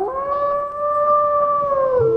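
A wolf howling in the WolfQuest video game, a single long, clear, sustained tonal howl that holds steady and falls off at the end, loud and close with no talk.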